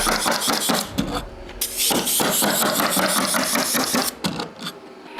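A staple gun fires into plywood sheathing on shed wall framing, with loud, close sharp impacts repeating at an uneven rhythm over a steady rumble of compressor or engine noise.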